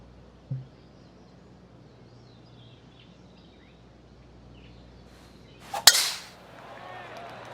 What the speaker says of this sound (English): Time to tee off at the second.